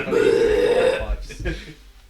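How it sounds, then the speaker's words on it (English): A big, drawn-out burp from a player during a tabletop role-playing session, loud and close, a long low rumble that fades out, with voices around it. "he lets out a big old burp"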